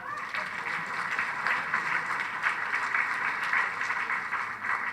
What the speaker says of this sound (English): Give me a clap now.